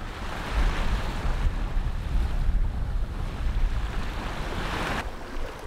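A sailboat racing in a gentle breeze on the ocean off Ixtapa, with steady rushing water and wave wash against the hull, mixed with wind buffeting the microphone, no voices.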